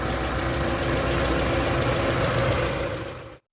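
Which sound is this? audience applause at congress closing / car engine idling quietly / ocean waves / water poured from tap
car engine idling quietly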